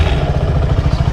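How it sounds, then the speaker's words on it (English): A Suzuki Gixxer SF 250 BS6 motorcycle engine runs with a steady, close low rumble that holds at an even level throughout this brief stretch, with no voices. "This is a startup of engine."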